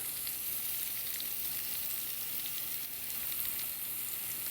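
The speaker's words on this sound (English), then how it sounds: "I'm gonna go ahead and add the tuna to the pan. And I'm only gonna sear it nice and rare." Tuna steak searing in a hot pan gives a steady, close sizzle that holds even and bright throughout, with no talking over it.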